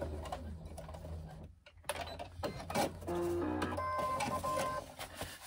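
A sewing machine stitches back and forth across a boxed corner, reversing over the seam, in short uneven bursts with a brief gap and some mechanical clicks and whirring toward the end.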